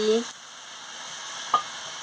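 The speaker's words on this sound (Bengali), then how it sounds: "আমি পরিমাণ মতন জলটা দিয়ে দিচ্ছি" Water poured into a pan of sizzling potol, potato and carrot curry, a brief splash at the start followed by a steady frying hiss with a faint clink of a utensil.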